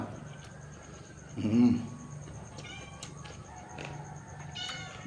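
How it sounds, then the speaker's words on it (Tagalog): Stray cats meowing nearby, one clear drawn-out meow in the middle followed by fainter calls, against quiet background noise. "May mga pusang gala ditong pinapakain ko na lang."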